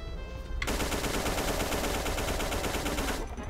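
Rapid continuous gunfire from enemies in the retro shooter The Golden Souls, a dense unbroken burst of automatic shots that starts abruptly and runs for about two and a half seconds before cutting off, loud with no speech.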